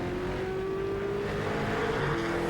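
Fujitsu Ford V8 race car engine during an NZV8 race at Ruapuna, a steady loud drone with a sustained engine tone that shifts slightly in pitch, continuous throughout with no talking.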